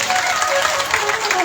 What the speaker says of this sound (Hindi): बजाओ ताली से।